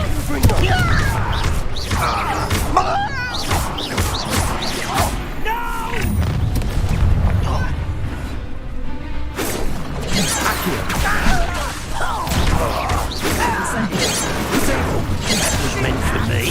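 Explosive Confringo spell blasts in Hogwarts Legacy boom and crash among whooshes and mechanical clatter. Several loud bursts repeat through a dense game mix, and voices speak over the action.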